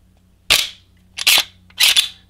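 Three sharp metallic snaps of Zaffiri Precision Glock 34 slide parts being forced back onto the frame with a very tight fit, evenly spaced about every 0.7 seconds, close and loud against a quiet low hum, with no talking.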